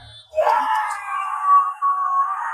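Eerie, drawn-out screaming from a Hong Kong horror film set in a hospital, one loud wailing cry that holds and wavers for about two seconds.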